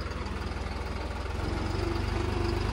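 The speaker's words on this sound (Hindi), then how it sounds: "देख लो जी ये नवा ट्रैक्टर हले लिया नहीं है" A new tractor engine running at idle, a low steady rumbling drone with a regular throbbing pulse, close by and continuous.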